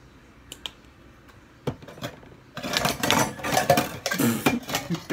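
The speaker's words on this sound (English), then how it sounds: "so then you stir your vanilla up inside your peaches" Peaches and juice being stirred with vanilla for a peach dump cake, a utensil clinking and scraping against a dish in a busy run of taps and scrapes that grows louder partway through, with no talking.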